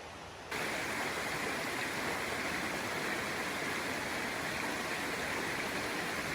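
Steady close rush of water trickling and bubbling from a small methane-fed geyser at Flaming Geyser State Park along the Green River, a dense hiss that holds evenly without pause.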